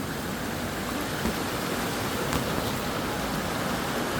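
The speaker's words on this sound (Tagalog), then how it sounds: "Malakas ng agos." A river with a strong current rushes in a dense, continuous roar close by, steady throughout with no voices.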